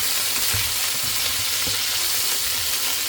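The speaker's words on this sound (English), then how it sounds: "So I'm going to cook the tomatoes until they are starting to be soft" Tomatoes for a pasta sauce cook in a pan with a loud, dense, continuous sizzle and bubbling hiss, close and unbroken, with faint low stirring bumps underneath.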